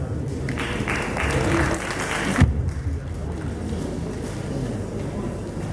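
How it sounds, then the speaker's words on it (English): An audience applauds a speaker after an investment pitch at a 2018 networking event. The clapping lasts about two seconds, then cuts off with a dull thud, leaving quiet room murmur. "A round of applause for him,"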